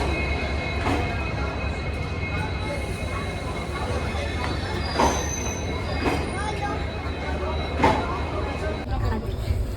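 Passenger train running on rails on a winter trip from Jaipur to Uttarakhand: a steady rolling rumble with a faint high squeal, brief periodic clatter bursts, and people talking over it.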